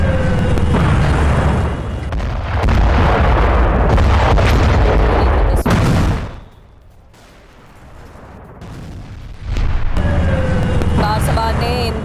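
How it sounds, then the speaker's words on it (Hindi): Repeated heavy blasts at a petrochemical plant in Ahvaz, loud and close, rumbling in a dense continuous mass with a brief quieter lull before the booming returns. "क्योंकि एक के बाद एक धमाके यहां पर हो रहे हैं।"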